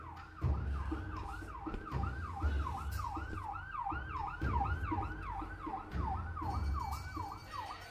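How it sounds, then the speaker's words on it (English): Emergency vehicle siren outside, a rapid rising-and-falling yelp wail repeating steadily for several seconds, fairly distant, with low rumbling traffic or thumps underneath and no talk. "Forever sirens going off around here."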